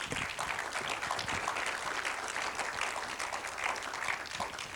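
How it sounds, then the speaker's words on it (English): An audience claps in a continuous round of applause, a thick, steady patter of many hands holding at an even level for several seconds. "A round of applause for her, people."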